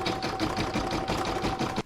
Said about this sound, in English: pop it in my machine and stitch it down with round number 3